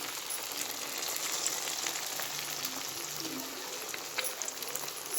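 Sabudana vadas deep-frying in hot oil, a soft, even bubbling sizzle that holds steady for a few seconds, close but quiet, with occasional faint pops.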